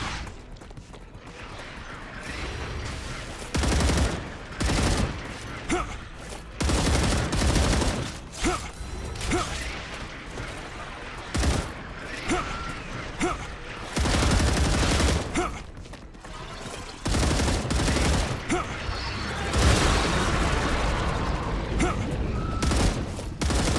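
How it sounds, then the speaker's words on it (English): Repeated bursts of gunfire from the video game StarRupture, loud and dense across the whole stretch, clusters of shots separated by brief lulls, with a voice talking now and then. "I got these ones shooting at me."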